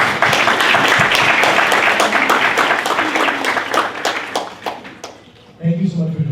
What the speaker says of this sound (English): So please, can we get a round of applause for our guests?